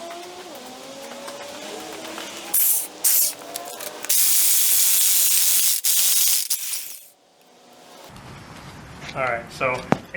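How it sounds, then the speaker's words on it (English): A pneumatic impact wrench works on a seized front ball joint of a 2002 Honda Civic SI EP3, firing in several loud, harsh bursts of hammering, the longest lasting a few seconds, with talk following afterwards. "Alright, so impact is what ended up doing it."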